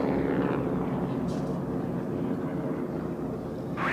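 Several T-6 racing airplanes fly past during a National Championship air race, their steady broadband engine roar filling the clip at moderate loudness from start to finish.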